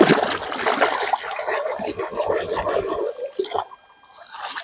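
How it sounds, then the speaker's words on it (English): Rocks sloshed and rinsed in river water while prospecting near Thermal City on the 2nd Broad River: close, irregular splashing and trickling that stops abruptly near the end, with no voice. "let's go ahead and let's wash these rocks here"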